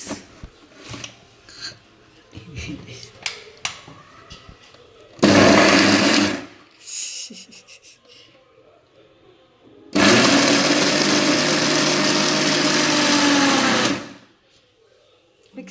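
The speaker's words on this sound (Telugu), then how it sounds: "మిక్సీ పట్టుకుందాం ఫ్రెండ్స్" A mixer grinder whirs loudly in two bursts, one short and one about four seconds long, with quieter kitchen clatter and handling before and between.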